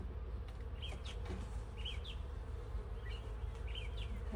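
A steady close hum of honey bees swarming over comb in an opened hive during a late-spring inspection, continuous and even, with faint bird chirps in the background and no talking.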